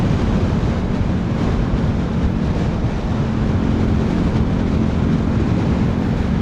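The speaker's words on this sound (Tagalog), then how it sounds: "Lakas ng hangin talaga." Steady, heavy wind roar buffets the microphone throughout, loud and unbroken, while riding a Euro Rock R125 motorcycle at speed, with no other sounds standing out.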